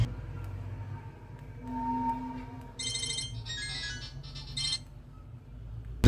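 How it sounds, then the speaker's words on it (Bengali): A phone ringtone plays through a phone's loudspeaker after a fault that showed headphones connected was fixed. The short, bright melodic tune starts mid-way and lasts about two seconds over a low background hum. "আমি একটা রিংটোন বাজাই দেখি রিংটোনের সাউন্ডটা"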